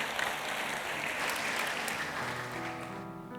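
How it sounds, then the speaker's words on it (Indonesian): A church congregation claps for Jesus during a sermon, a moderate, steady patter of many hands, somewhat distant, with a sustained musical tone entering underneath toward the end. "Kasih tepuk tangan buat Tuhan Yesus, saudara."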